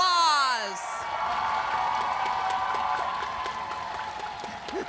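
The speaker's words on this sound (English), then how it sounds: "give them a round of applause" Audience applause with scattered whoops for three honorees at an awards show's opening, a broad steady wash of clapping that follows a brief sung or spoken tone at the start and holds for several seconds.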